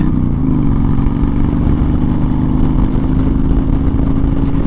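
A Honda Fury motorcycle engine drones steadily as it accelerates up to speed, low and loud under rushing wind from riding with a helmet on, unbroken and with no speech.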